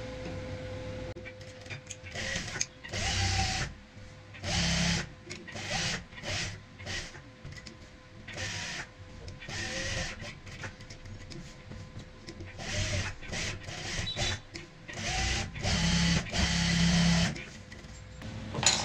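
A sewing machine stitches the neckline of a kurti through fabric backed with buckram and paper, running in short, fairly quiet bursts separated by pauses.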